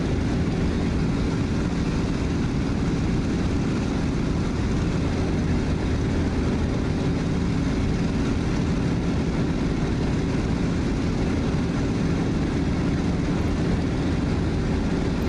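A Fw-190 fighter engine drones steadily in flight near barrage balloons, a loud, unbroken low-pitched roar with a constant propeller hum and no talking over it.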